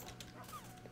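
A Minecraft dog (tamed wolf) whimpers in a short, thin whine amid a busy game background, near and moderately loud.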